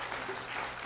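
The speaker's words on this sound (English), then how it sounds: "So let's applaud Michelle." Audience applause at a campus director update event, a brief burst of dense clapping from a crowd, steady and moderately loud throughout.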